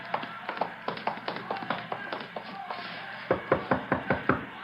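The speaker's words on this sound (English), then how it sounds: "You're knocking on the door." Knuckles rap on a door in two bursts of steady, evenly spaced knocks, close and distinct, with a quiet room tone behind.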